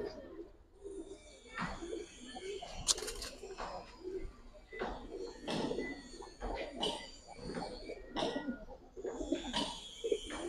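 Small pigeons in a Giribaz and colour pigeon collection coo repeatedly in low throaty bursts, with wing flutters and knocks scattered throughout and people talking nearby.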